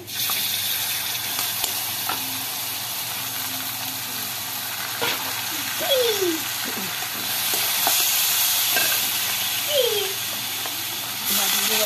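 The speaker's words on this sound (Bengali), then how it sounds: "এই ফেটানো টক দইটা দিয়ে দেবো।" Beaten sour yogurt goes into a pan of cooking spices for chicken pointed gourd dolma, bringing a strong, continuous sizzle and frying hiss close by. Stirring scrapes sound now and then, and there is no clear speech.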